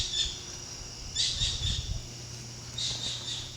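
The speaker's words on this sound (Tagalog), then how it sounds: "Ayan, may humuhuni ng ibon." Short bursts of high bird chirps at dawn, two clusters of quick tweets a moment apart, over a low outdoor rumble.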